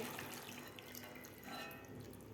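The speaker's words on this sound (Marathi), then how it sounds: "ताटात ठेवलेलं पाणी घालायचं आहे चिकनमध्ये" A faint, steady splash and trickle of water runs continuously as water is poured into a pan of cooking chicken curry, with no voices.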